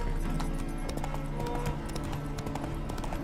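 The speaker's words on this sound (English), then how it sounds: "Spooking my horse. Roach doesn't like ghosts." Roach, Geralt's horse in The Witcher 3: Wild Hunt, spooked by ghosts, with loud, continuous clip-clopping hooves under a low droning background and a faint whinny.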